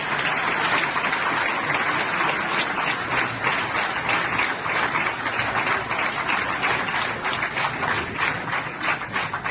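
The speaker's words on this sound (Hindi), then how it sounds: "तो पाकिस्तानियों के लिए हम सबको ताली बजानी चाहिए।" An audience applauds Pakistanis with loud, dense, sustained clapping that holds steady the whole time, with no talk over it.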